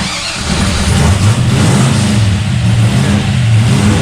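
A Henry J Gasser car engine with wiring trouble keeps running on, a steady loud mid-pitched drone with low rumble and slight revving swells, close by and alone after a brief start.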